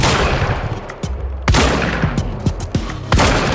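Shotgun fire in Quantum Break: about five sharp, heavy blasts spaced roughly half a second apart over a low rumble of battle, loud and close, with no voices.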